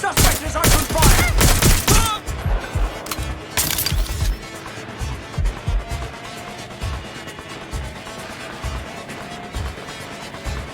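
Gunfire in the video game Watch Dogs: Legion, a loud rapid fusillade of shots in the opening seconds, then sparser pops and impacts fading under ambient game noise.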